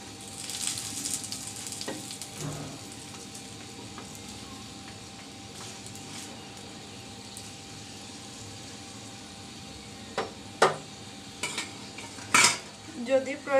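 Potato-filled snacks shallow-frying in a little oil, a soft steady sizzle under occasional sharp clinks and scrapes as a utensil flips and stirs them in the pan.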